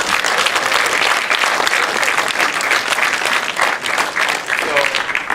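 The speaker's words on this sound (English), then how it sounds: "Give yourselves a round of applause." Sustained applause from an audience at a live spoken-word and rap event, dense steady clapping throughout with some crowd voices mixed in.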